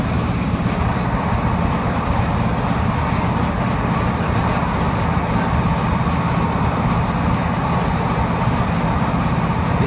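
Passenger train running between Lincoln and Peterborough via Sleaford, heard from inside the carriage as a loud, steady rumble and rail roar with continuous wheel noise throughout.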